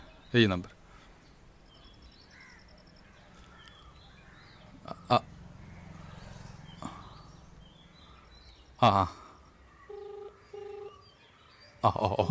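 A handful of short telephone keypad tones beep one after another among a few sharp clicks, with faint bird chirps in the background.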